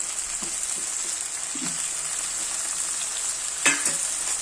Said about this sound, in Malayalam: ഞാൻ ഇതിനകത്തോട്ട് ഈ അയില കഷ്ണങ്ങൾ പറക്കിയിടുവാണേ.